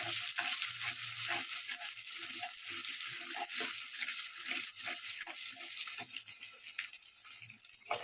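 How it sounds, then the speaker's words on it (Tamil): Onions sautéing on low heat in a pan for a potato and moong dal salna make a soft, continuous hiss dotted with faint crackles and pops, fairly quiet and without pause. "பெரிய வெங்காயத்தை போடுங்க நல்லா வணக்கிட்டே இருங்க கம்மியாக வச்சு"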